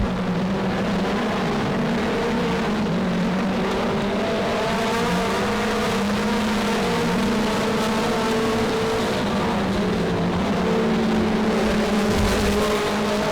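Race cars lap the oval at Monarch Motor Speedway, with engines droning and whining continuously, pitches rising and falling as the cars circle and pass, loud and steady throughout.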